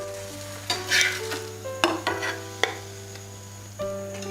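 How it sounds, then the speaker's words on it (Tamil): Adai dosa batter frying on a hot pan, a steady sizzle broken by several sharp scrapes and clinks of a ladle or spatula, close up with no talk. "இப்படி ஒவ்வொரு கரண்டி மாவாக ஊற்றி தோசை ஆடை தோசையாக வறுத்து எடுத்துருங்க"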